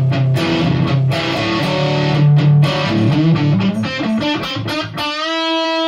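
Electric guitar through a Kemper amplifier with definition at zero churns through a dense, dark-toned riff, then settles on a ringing sustained chord at the end, loud and alone.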